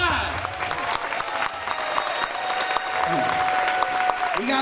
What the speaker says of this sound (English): can you please stand and give a round of applause?